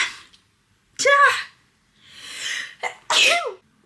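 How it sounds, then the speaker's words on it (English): Two sharp sneezes burst out close by, each with a quick intake before it, separated by a breathy pause. "oh my God, I'm gonna sneeze again"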